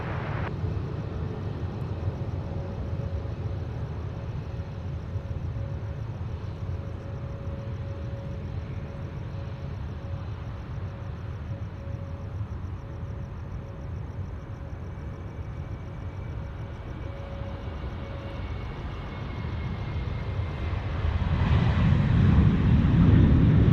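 An airliner lands at night on runway 34 left at Sydney Airport: a steady, distant, low engine rumble and roar that swells louder and closer in the final seconds.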